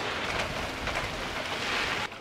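Heavy rain mixed with hail during a storm, a loud and dense hissing patter close by that holds steady and then drops off sharply near the end, with no talking.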